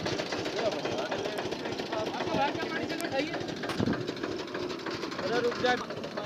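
An old Eicher tractor, a 1969 model, drives a tubewell pump that is failing to lift water, its diesel engine chugging steadily under continuous talk from people nearby.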